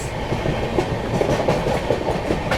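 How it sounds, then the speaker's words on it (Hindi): The New Delhi–Kanpur Shram Shakti Express rolls past close by, a loud continuous rumble with rhythmic clickety-clack of wheels over rail joints throughout. "New Delhi Kanpur Shram Shakti express."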